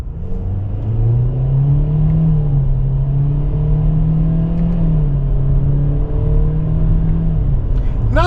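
A 2024 Hyundai Kona SEL engine with IVT droning loudly, pitch rising and dipping as revs climb and fall through paddle downshifts, continuous and close.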